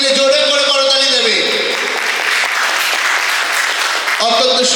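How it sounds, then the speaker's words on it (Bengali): Audience applause breaks out at a blood donation camp felicitation, a dense sustained clapping from a crowd, loud and close, with a voice speaking over the start. "সকলে মিলে জোরে করে করতালি দেবে।"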